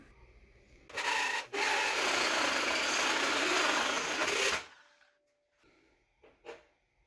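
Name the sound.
drill cutting hole in plate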